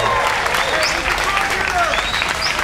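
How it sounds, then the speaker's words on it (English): A press-event audience at a UFC 214 open media session gives sustained applause, dense clapping throughout with some crowd noise and a few voices over it. "You guys can just give them a round of applause."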